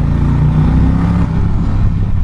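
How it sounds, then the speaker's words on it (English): An Indian Challenger motorcycle's exhaust rumbles deep and loud inside a tunnel, a close, steady low throb with slight revving pulses. "Oh, the tunnel braps are good."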